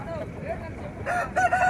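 A rooster crows briefly at the Gudur chicken market, a short strained call rising near the end amid market background and faint voices.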